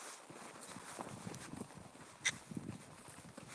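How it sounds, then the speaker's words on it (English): Horse hooves clip-clop softly as the horse is turned around, with a few faint, scattered steps and one sharper knock on a quiet background. "turning this horse around a little bit,"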